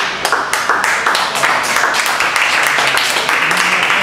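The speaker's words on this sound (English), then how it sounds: "He got the most applause all night" A restaurant audience at El Patron Mexican Restaurant applauds a singer with dense, steady clapping that fills the room. The applause stays loud and continuous throughout, with a few voices mixed into the crowd noise.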